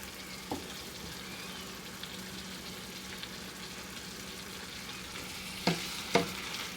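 Bolognese meat sauce simmers and sizzles steadily in a pan, a soft continuous bubbling hiss with a few sharp clinks of a utensil near the end, no voices.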